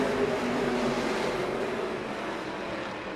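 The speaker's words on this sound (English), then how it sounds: "Kevin Lacroix paces the way slow and steady, jumps on the throttle out of turn number 4" Race car engines roaring as a stock car pack accelerates out of turn four at Riverside International Speedway during the Choko 150, a loud, dense, steady drone with no speech.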